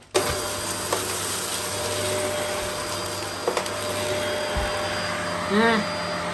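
A Vacmaster Respira vacuum cleaner runs with a steady, loud motor drone and airflow hiss. A few bumps and knocks come from the machine, and a brief higher whine rises near the end.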